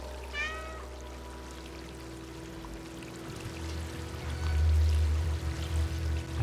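A single short meow from a cat in the video game Stray near the start, followed by a trickling, pouring water sound that swells and continues.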